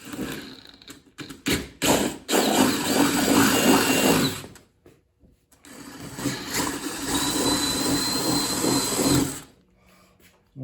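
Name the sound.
drill boring a 7/16 hole in a 1997 Honda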